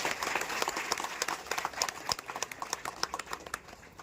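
A crowd at a Ganesh festival gathering in Satpur claps along in quick, rhythmic bursts, a fairly faint, scattered patter of many hands sounding from some distance.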